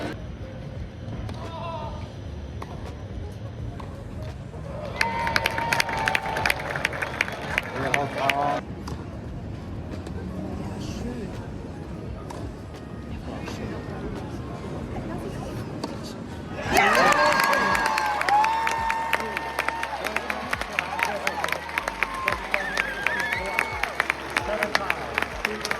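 An audience at the Rolex Monte Carlo tennis tournament claps for a player who has just qualified for the third round, with bursts of applause and cheering rising and falling. A voice speaks over the crowd throughout.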